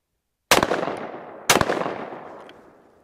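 Two loud, sharp shotgun blasts from a Browning Citori Hunter over-and-under, spaced about a second apart, each with a long rolling echo trailing off outdoors.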